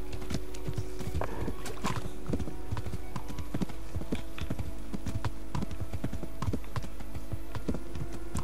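Horse hooves clip-clop steadily during riding in Kingdom Come: Deliverance, a rapid, loud rhythm of hoofbeats running through the whole stretch over a low game backdrop.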